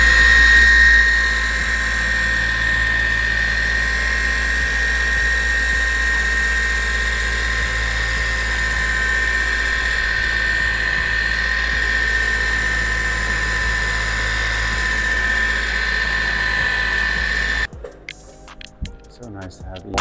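A dual action polisher with a pad polishing car paint after dry sanding a deep scratch, a loud steady motor whine and hum running close and continuously before cutting off near the end.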